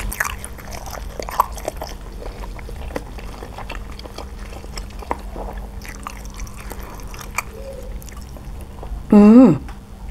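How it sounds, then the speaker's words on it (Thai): Meatballs are chewed and bitten up close while eating dry small-noodle soup, with a steady run of soft, wet chewing and a short vocal sound near the end. "กินลูกชิ้นก่อนจ้ะ"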